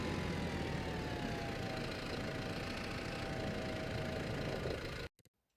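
A tractor engine idles in the Farming Simulator 25 video game, giving a steady, dense rumble with a faint whine that cuts off abruptly near the end.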